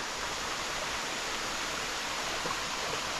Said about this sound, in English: it comes to the stream that flows right under our feet